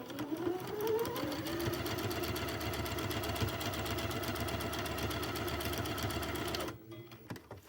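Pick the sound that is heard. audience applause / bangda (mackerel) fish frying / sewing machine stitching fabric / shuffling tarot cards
sewing machine stitching fabric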